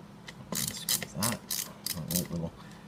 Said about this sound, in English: Ratcheting screwdriver